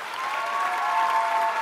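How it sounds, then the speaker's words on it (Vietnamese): A studio audience at a televised dance competition bursts into dense, steady applause, loud and close throughout the short burst with no talk over it. "Một tràng pháo tay cho Ngọc Anh và Nguyễn Khánh"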